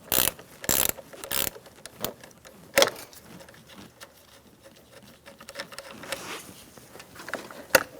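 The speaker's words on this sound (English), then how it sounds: "Using an 8mm wrench, we're going to disconnect our negative battery terminal." An 8mm wrench ratchets on the negative battery terminal of a 2007-2017 Ford Expedition 5.4L V8, making bursts of sharp, close clicking with short pauses between them.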